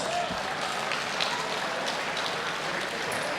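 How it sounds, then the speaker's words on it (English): Audience applause after a tough three-round MMA cage fight, a steady dense wash of clapping with crowd noise filling the arena throughout. "How about a round of applause for these two fellas?"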